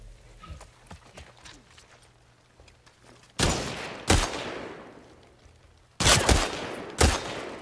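Gunfire erupts in The Last of Us Part II, with four sharp shots in two pairs cutting through quieter background ambience, each loud and close with a brief ringing tail.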